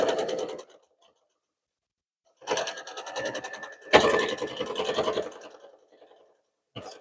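A sewing machine runs a shallow quarter-inch binding seam around a patriotic Fourth of July quilted pot holder, using a quarter-inch foot with a guide. It whirs in short bursts, a brief run, then a longer stretch after a pause, close and clear.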